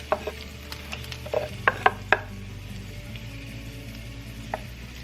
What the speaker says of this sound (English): Okay, I browned my meat and I drained it. Now I'm going to add the onions.